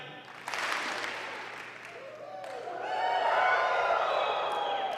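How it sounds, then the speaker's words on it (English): An audience at a live-streamed student name ceremony gives a quick practice clap, followed by scattered cheers and whoops rising into a sustained crowd roar. "Let me hear the one clap."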